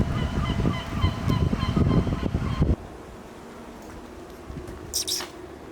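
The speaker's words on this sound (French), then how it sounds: "Une meute de mouettes." A flock of seagulls calls out on a steep hillside, a dense, busy chatter of overlapping cries that is loud at first, then cuts off abruptly and gives way to quieter, scattered calls and brief bursts.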